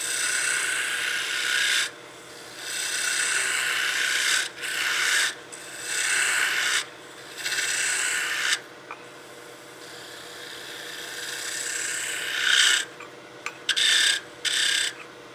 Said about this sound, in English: we're getting thin enough out here you can hear a little bit of chatter